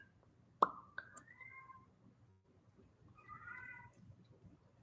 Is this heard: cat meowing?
yes